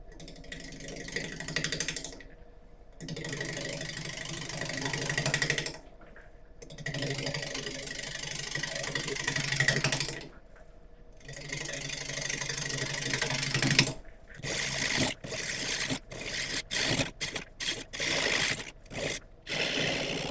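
A wood lathe turns a sequoia blank while a 3/8 inch Record Power bowl gouge cuts it, making a rough, whirring scrape in long passes, then short, choppy bursts broken by brief silences.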